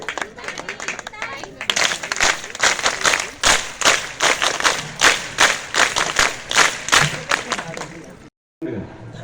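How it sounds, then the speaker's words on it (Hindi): A large crowd at an honouring ceremony claps in unison, a loud regular rhythm of sharp collective claps over several seconds before a brief gap. "रंजीत भैया के बात ला पूरा करो, मितानी ताली बजाओ"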